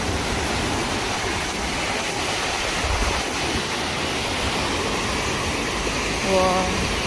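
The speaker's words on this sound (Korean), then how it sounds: "와 파도 짱 세다" Strong ocean waves surge and crash continuously on a cloudy day near a bridge, filling the scene with a loud, steady roar of surf that swells slightly near the end.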